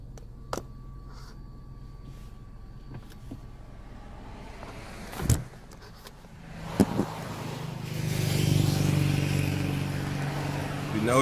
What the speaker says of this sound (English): This vehicle is approaching me.